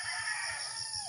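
A rooster crows in the morning, a sustained, fairly loud call with bright harmonics over a faint low rhythmic background, no talking.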